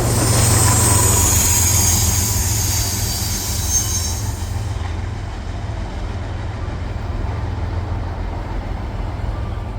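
An intermodal freight train led by a C6M locomotive rolls past with a loud, continuous rumble and wheel noise, the high squeal fading midway while the steady rolling roar continues.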